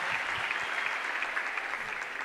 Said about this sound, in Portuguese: Aplaude Jesus aí, meu Deus do céu